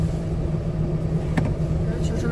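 A car drives along a road on a clear day after rain, its engine and tyre rumble forming a steady low, continuous drone from inside the vehicle, with faint voices mixed in.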